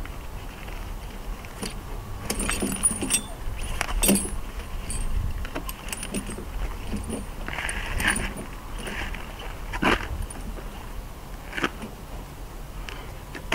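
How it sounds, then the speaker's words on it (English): Metal snow chain clinks and jangles as it is draped over a truck tire outdoors, a steady run of rattling links with sharper metallic clanks scattered throughout, close up over faint background rumble. "When placing your chain over the tire, you want to make sure that it is as even as possible."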